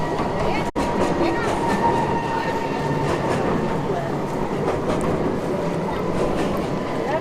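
A train rumbles steadily across a bridge in Vila Nova de Gaia, Portugal, a continuous close, loud rolling roar with faint wheel clatter and no break.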